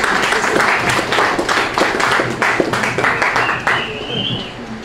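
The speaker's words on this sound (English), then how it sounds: "Please give a round of applause to Crystial." A café audience at a spoken-word poetry night claps for a poet, with moderately dense, fairly close applause and voices mixed in throughout.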